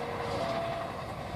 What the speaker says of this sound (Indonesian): Kereta Pajul Utama Solo melintas langsung Arja Winangun.